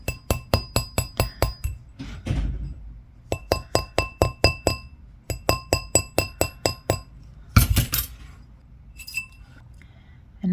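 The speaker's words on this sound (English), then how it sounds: "you could use a rubber mallet" A rubber mallet taps a wire-wrapped pearl ring in quick rapid bursts of sharp metallic clinks, several runs of evenly spaced hits separated by short pauses.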